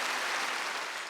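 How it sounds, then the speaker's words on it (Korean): An audience applauds a North Korean singer, a brief wash of many hands clapping, moderately loud and even, slightly fading toward the end. "우리 북측 가수분 김옥주 씨에게 큰 박수 보내주세요"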